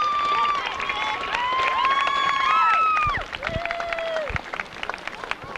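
Applause from a football crowd for a homecoming candidate and her escort at halftime, clapping and cheering under a voice over the stadium PA, fading slightly toward the end.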